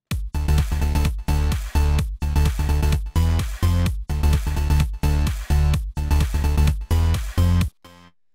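Synthesizer electro bass line with an echo effect, the bass and top end trimmed from the repeats: loud, punchy rhythmic notes in a repeating pattern for several bars, ending in a brief fading echo tail.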